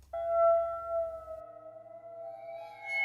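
A water phone sounds a sustained ringing metallic tone that starts abruptly and holds steady, with a low hum underneath for the first half and a faint bend near the end.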